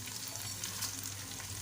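Whole garam masala spices fry in hot oil in a pan, giving a steady, even sizzle that holds at a moderate level under a faint low hum, with no voices.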